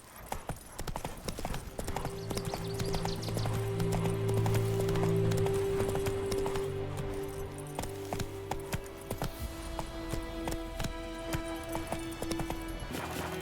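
A horse gallops in the video game The Witcher 3: Wild Hunt, its hooves drumming in a steady, fast rhythm at moderate loudness over a sustained low musical drone.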